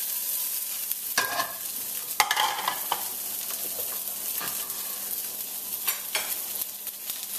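Cauliflower and a little garlic sauté in a pan beside trout and fall vegetables, a steady close sizzle broken by several sharp scraping stirs of the spatula.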